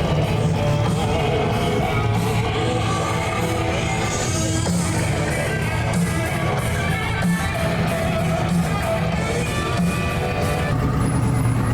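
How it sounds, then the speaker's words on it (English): A 1957 Chevy with a twin turbo LS engine rolls by at a car show cruise, a steady loud engine drone mixed with surrounding traffic noise throughout. "Another radical sounding 57 Chevy."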